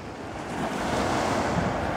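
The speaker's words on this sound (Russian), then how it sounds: "А это вот море." Continuous wash of Black Sea surf breaking on an empty beach at Imeretinka, Adler, mixed with wind buffeting the microphone, steady and fairly close.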